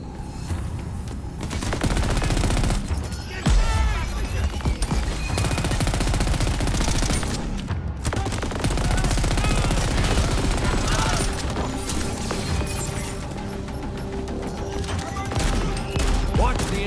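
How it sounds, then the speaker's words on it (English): Sustained enemy gunfire in the action game Crackdown 3 during a riot fight, loud rapid machine-gun bursts and fusillades filling the whole stretch, with game voices cutting in now and then. "Enemy fire."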